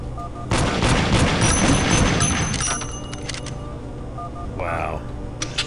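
Shotgun blasts in the video game Daikatana, a dense run of loud booming shots for about two seconds that tails off, followed by quieter game sounds.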